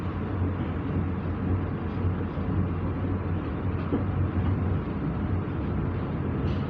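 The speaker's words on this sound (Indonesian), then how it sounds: "ini kereta api Kamandaka Malam dari Semarang Tawang tujuan ke Purwokerto" The Kamandaka Malam passenger train from Semarang Tawang to Purwokerto rumbles past close by, a steady, loud roar of wheels and carriages with no voices.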